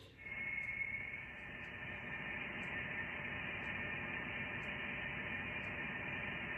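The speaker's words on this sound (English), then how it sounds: "The Voyager spacecraft recorded plasma waves as it crossed into this vast expanse, producing a profound humming sound." A steady electronic hum with a hissing, radio-like noise band drones on evenly, with faint occasional crackles above it: plasma waves recorded by the Voyager spacecraft.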